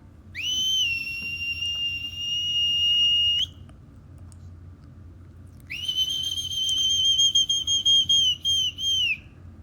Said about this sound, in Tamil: இவர் இப்படி விசில் அடித்தோடனே இதை வந்துட்டேன் அப்படின்னு சொல்லிட்டு அலிகேட்டர்ஸ் எல்லாம் எங்கள் போட்டு பக்கத்தில் வந்துச்சுங்க